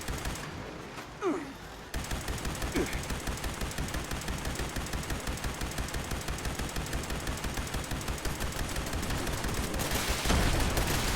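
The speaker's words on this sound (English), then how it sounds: "Now see that crossfire from the other turrets over there?" Steady, rhythmic automatic turret fire in Fallout 76, a long run of evenly spaced shots from several turrets in crossfire, fairly far off and continuous, with a brief lull near the start.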